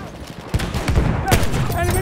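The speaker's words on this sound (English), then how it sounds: "There's a machine gun." Gunfire from a Battlefield 1 battle, with sharp bursts and a heavy boom cutting through constant battlefield noise and voices in the background.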